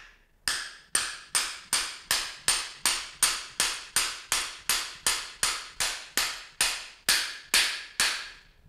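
A tool is hammered repeatedly against a part of a bicycle suspension fork to seat it, giving about seventeen sharp metallic strikes in a steady rhythm. The strikes are close and loud against silence.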